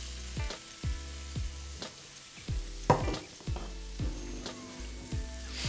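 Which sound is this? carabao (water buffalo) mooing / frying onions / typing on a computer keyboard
frying onions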